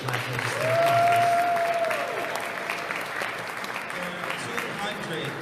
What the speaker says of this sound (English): Please, one more round of applause for the United Black Legislative Conference.